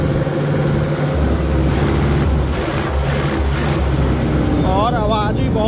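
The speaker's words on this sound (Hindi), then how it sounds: "आवाज़ भी बहुत ही बढ़िया गोल आवाज़ है ट्रैक्टर की, कोई फटफटाहट नहीं है जी।" A Mahindra Yuvo Tech Plus 585 four-wheel-drive tractor driving on a road at high revs near 2400 rpm, about 38 km/h, its engine a loud, steady, smooth drone heard close throughout.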